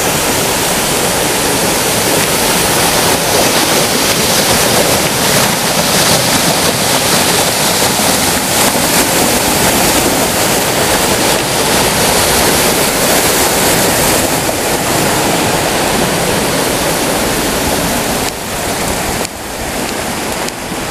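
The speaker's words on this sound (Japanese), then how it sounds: "最初の滝ですね。 すごい" A waterfall on a mountain trail in Japan gives a loud, constant, wide roar of rushing water that fills twenty seconds without pause, close by and with no voices.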